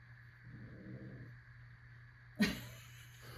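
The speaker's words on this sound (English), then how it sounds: "Who's growling? I think it's her." A new kitten growls in a low, rumbling stretch around the middle, followed by a sudden louder burst, with a steady background hum throughout.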